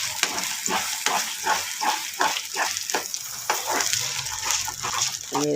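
A cucumber mixture is stirred in a pan to dry it out, with repeated scraping strokes and a soft sizzle in a steady rhythm, fairly close.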